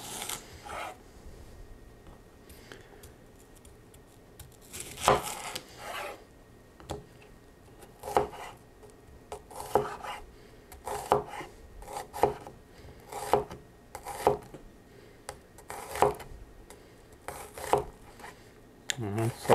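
A Huusk Haarko Santoku stainless steel knife slicing thin pieces off an onion on a board, a series of crisp cuts and knocks repeating in a steady rhythm, close up and moderately quiet, with occasional faint talk.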